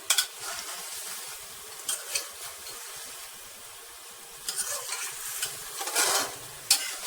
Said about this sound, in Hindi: 5 से 10 मिनट तक हमने इसकी अच्छी तरह से भुनाई करनी है।